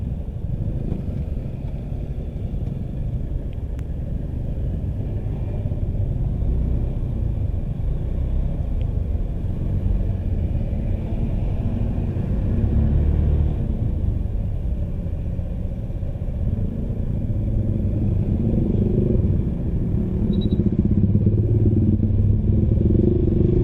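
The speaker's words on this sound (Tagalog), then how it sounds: "Traffic na." Road traffic and the rumbling engine of a motorcycle on a solo ride from Tagaytay to Parañaque, a constant loud droning rumble and wind that builds slightly toward the end, with no talk.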